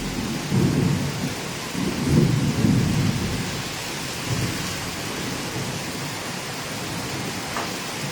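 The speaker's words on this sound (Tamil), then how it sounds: "நல்லா இடி இடிக்குது." Rolling thunder rumbles through steady rain falling with no wind, deep booms swelling and fading over a constant hiss of downpour, with no voices.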